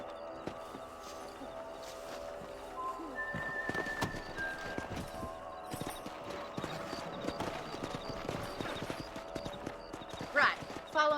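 Horse hooves clip-clop at a steady trot through the wilderness at night in the Xbox 360 Western game Red Dead Redemption, with a faint whinny and bird calls as someone talks over them throughout.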